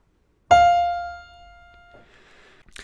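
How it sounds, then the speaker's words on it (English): A single piano note, F natural, struck once, ringing clearly and decaying slowly, close and alone with no other sounds. "which is an F natural. It's 1 note lower on the piano,"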